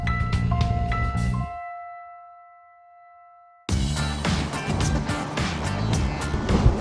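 A Sacs Strider 11 motorboat roars at speed with a dense, steady engine drone and rushing water, cutting out briefly into near silence with a faint tone before the loud engine noise resumes.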